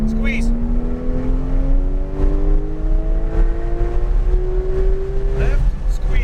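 A Porsche 911 GT3 engine pulls under throttle on a race track, a loud steady drone with rising tones as the revs climb over six seconds, close and continuous, a brief shift near the end.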